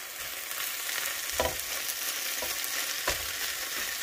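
Food is stirred with a cheap spatula in a frying pan while it sizzles steadily, with a few distinct scraping knocks of the utensil against the pan.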